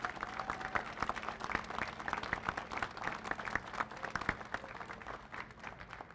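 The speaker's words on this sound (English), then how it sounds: "Let's give all these leaders a big round of applause." Audience applause for state leaders at a tourism economic impact event in Kentucky, a steady patter of many clapping hands lasting several seconds, with a faint voice underneath.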